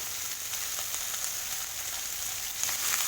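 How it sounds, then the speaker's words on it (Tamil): Vegetables sautéing in a pan for a leftover puttu dish, a steady close sizzle and hiss throughout with a slight swell near the end, no voices. "இது எல்லாத்தையுமே நல்லா வதக்கணும் இது நல்லா குக் ஆகணும்"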